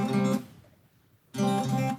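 A guitar's treble pickup soloed through a mixing desk gives two short bright strummed chords separated by a brief silence, thin and trebly in tone, close and clean with no talking.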